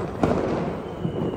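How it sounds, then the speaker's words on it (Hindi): Diwali firecrackers bursting in the sky, a dense continuous crackle and rumble with a sharper bang near the start and another later, loud and steady throughout with no talking. "पटाखे की आवाज कितनी तेज तेज आ रही है"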